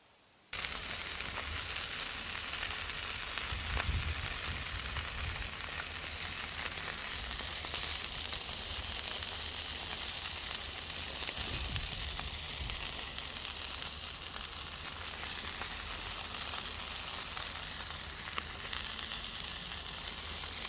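Beef patties for a homemade Big Mac fry in a pan with a steady, dense sizzle that holds close and loud throughout, without talk.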